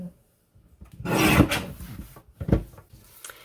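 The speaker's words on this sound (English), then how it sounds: "just go around the perimeter of the sheet and trim it down to a perfect 12 by 12" A paper trimmer slices through a sheet of cardstock, trimming it to 12 by 12 for a Christmas card kit: two close, rasping cutting strokes, the first long and loud, the second shorter, with soft handling rustles between them.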